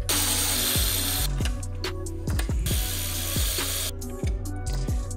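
Power tool and ratchet work on the 10 mm nuts holding the mass airflow sensor carrier of a 1996 Ford Econoline 7.5L, with loud, continuous whirring broken by repeated clicking bursts, close up with no talk.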